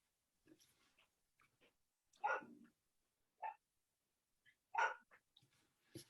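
A dog barking at a passing motorbike, a few short, faint barks and yelps scattered between quiet gaps, heard from a distance.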